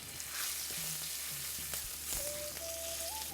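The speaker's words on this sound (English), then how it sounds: "Now we'll add curry leaves, இந்த curry leaf like 2 sprigs, should be fine." Two sprigs of curry leaves crackle and sizzle in hot oil, a steady close frying hiss with a few faint tonal chirps.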